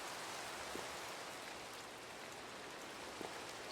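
Rain falls in the video game Minecraft, a faint, even hiss of steady rainfall with a few soft drop ticks and no speech.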